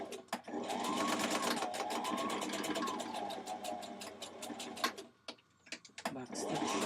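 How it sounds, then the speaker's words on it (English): Sewing machine stitching a 5/8-inch seam on a Vogue 1236 dress, a rapid rhythmic clatter with a whining motor for several seconds, briefly pausing with clicks, then starting up again. "Place here under your machine, look for the 5/8. And we're gonna sew this."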